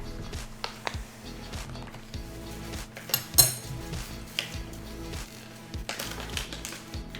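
Taco soup ingredients stirred together in a metal pot, with scraping and clinking of a spoon against the pot sides in an irregular run of knocks, fairly close and steady, with no talking.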